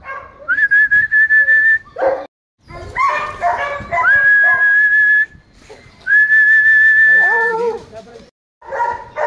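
Several hunting dogs bark, yip and whine excitedly in overlapping bursts before a wild boar hunt, with high whistle-like whimpers; a loud, busy, close chorus with brief pauses.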